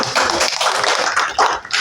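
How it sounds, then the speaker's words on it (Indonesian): Applause from a seminar audience at a legal training session on inheritance law, a dense crackle of many hands clapping steadily for about two seconds, fairly close and loud, with no talk over it. "Sip, tepuk tangan."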